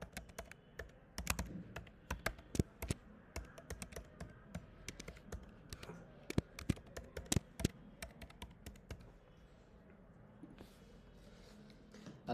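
Login credentials typed on a computer keyboard, a steady run of close, crisp key taps in irregular bursts that thin out and stop near the end, with no talk over them.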